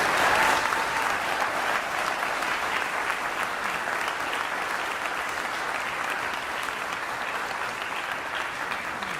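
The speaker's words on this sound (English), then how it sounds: "Can we give them another round of applause, please?" Sustained applause from a concert audience at a symphonic band performance, dense steady clapping filling the room at even loudness throughout, with no talk over it.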